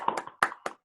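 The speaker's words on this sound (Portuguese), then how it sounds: "Bater palmas aqui, André." A few hand claps in an online seminar setting, three or four sharp separate smacks close to the microphone, uneven in rhythm and then silence.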